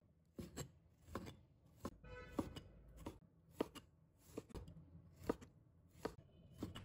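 A knife chops tomatoes into small pieces on a cutting board, about a dozen crisp, close taps at an uneven but steady pace, quiet and without talk.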